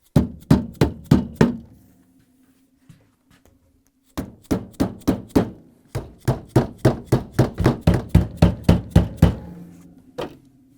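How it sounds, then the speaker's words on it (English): A plastic mallet taps the corners of a Frigidaire/Electrolux refrigerator door gasket in a quick run of dull, close thuds, then a pause and two longer rapid series of steady knocks. "Then you can use the plastic mallet"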